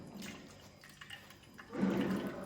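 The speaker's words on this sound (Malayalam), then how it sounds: "നമ്മുടെ ശുദ്ധമായ തേങ്ങാപ്പാല് നമ്മുടെ താറാവിലേക്ക് ഇതേ നമ്മൾ ഒഴിക്കുന്നു." Pure coconut milk is poured into a pan of duck curry, giving a low watery rush that swells into a fuller, louder gush near the end, with no voices.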